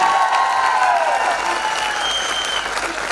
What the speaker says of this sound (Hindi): तो इस बात के लिए बहुत बड़ी तालियां होनी चाहिए